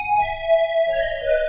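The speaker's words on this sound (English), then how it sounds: "go inside this Dream plugin and use this lead sound called Polaris" Polaris lead synth from the Dream plugin, a bright sustained tone holding one steady note with a shimmering upper layer, then sliding to another pitch near the end, loud and alone with soft low rumble beneath.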